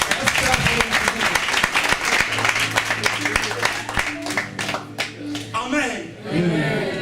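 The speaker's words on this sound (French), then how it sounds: "Acclame encore pour moi." A church congregation claps and cheers for several seconds, dense close applause mixed with voices and some music underneath.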